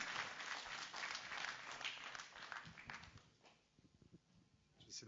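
Applause for women's rugby players and organisers, moderately loud clapping that thins and fades toward the end before a brief swell, with a voice speaking over part of it.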